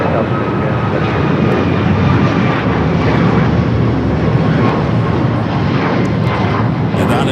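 A jet airliner takes off down a runway at LAX, giving a loud, steady engine roar that holds through the whole stretch with broadband rumble and hiss, close and continuous, no talk over it.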